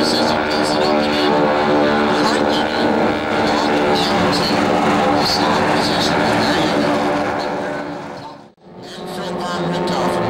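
Red Baron squadron propeller warbirds fly in formation at an airshow, a loud steady multi-engine drone that briefly dips as the planes pass, with a voice talking over it.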